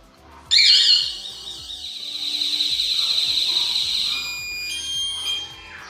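A loud talking alarm siren on a Rusi Royal 125 motorcycle blares and warbles continuously, with a steady high-pitched wail that shifts tone near the end, close and piercing.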